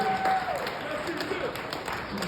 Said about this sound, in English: Give the guys a round of applause, guys.